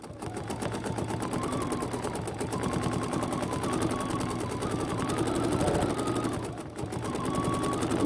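A BERNINA sewing machine with a stitch regulator stitches steadily and loudly, its needle hammering in a fast, even rhythm that runs without pause and dips only briefly near the end.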